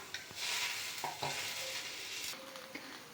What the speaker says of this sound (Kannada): ಹೈ ಫ್ಲೇಮ್ನಾಗಿಟ್ಟು ಬೇ ಬೇಯಿಸ್ತಾ ಇದ್ದೀನಿ